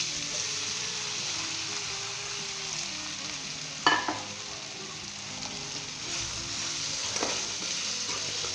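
Diced potatoes frying with red chili, turmeric, cumin and salt in a nonstick pan for crispy aloo bhujia, a steady close sizzle with scraping stirs and two sharper clatters of the spoon, no talking.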